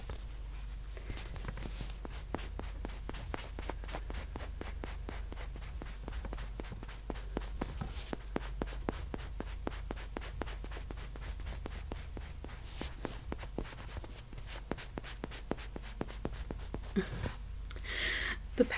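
A pen scratches and taps over a squishy toy in a steady run of short, crisp ticks, close and fairly quiet, with no talking.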